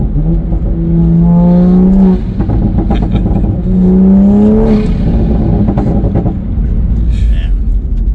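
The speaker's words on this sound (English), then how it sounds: "You can really hear the turbo on this side." A loud tuned Toyota A90 Supra engine revs hard twice, the pitch climbing each time, with a whooshing turbo whine and a rough exhaust rumble throughout.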